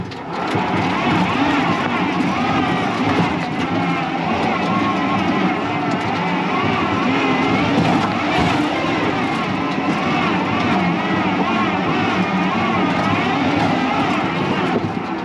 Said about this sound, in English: It's mostly driveline that you're hearing